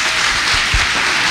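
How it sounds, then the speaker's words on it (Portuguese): A church congregation applauding loudly, a brief burst of dense, continuous clapping filling the room. "Aplauda bem forte ao Senhor."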